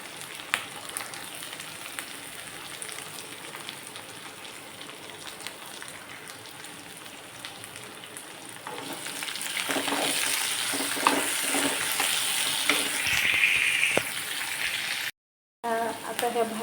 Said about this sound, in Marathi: ह्या भाज्या पण 2 मिनिटासाठी छान परतून घेऊया.